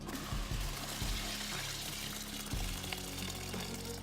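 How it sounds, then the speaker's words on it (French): Hemp seeds for carp fishing bait pour steadily into a bucket beside a pond, a continuous dense pattering rush with a few low knocks, close and fairly quiet. "on va mettre du chènevis. Hop, on va le verser directement."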